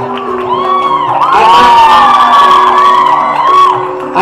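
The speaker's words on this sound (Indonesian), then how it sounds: "Tepukan sekali lagi kepada Jeffrey Apul ataupun Jeffrey Kambung." A loud crowd at a boat-paddling competition semi-final cheers, whoops and shouts continuously, with high excited voices rising and falling over a steady roar.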